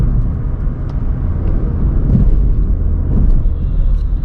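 A 2020 Honda City BS6 petrol engine accelerating in sports mode on a test drive, a loud steady low rumble that swells slightly as the throttle is pressed.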